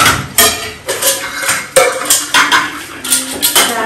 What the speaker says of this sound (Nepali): मेरो दिदीले भाँडा माझिसक्नु भयो